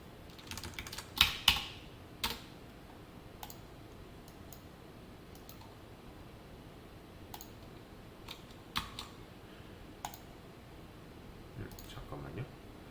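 Sparse computer-keyboard typing while code is written, with a few louder key clicks near the start and scattered quieter taps afterward, faint and close.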